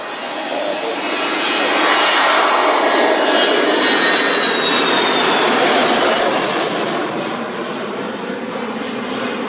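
An airliner takes off at Leeds Bradford Airport, its engines a loud, steady roar with a rising whine that swells and then eases slightly, continuous with no talk.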